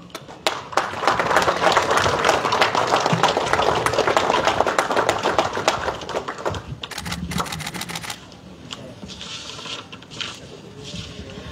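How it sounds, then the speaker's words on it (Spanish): Applause from an audience at an official certificate-handing ceremony attended by a government minister, a dense burst of clapping that swells loud and steady for several seconds, then thins into scattered claps. "Palmas, por favor."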